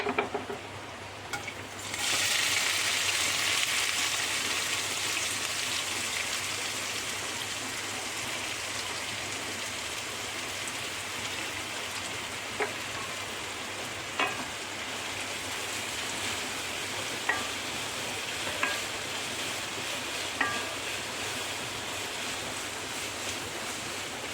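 Sliced onion dropped into hot oil, a loud hiss bursting in at once and settling into a steady, rain-like frying sizzle with a few faint clicks of a utensil.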